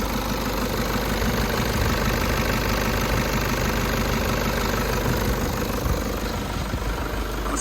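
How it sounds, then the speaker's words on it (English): A Nissan Patrol 3.0ZD diesel engine idles hot with a steady, even rumble and faint knocking, loud and close throughout with no talk. "So I'm just letting it run for a bit, so it's definitely hot"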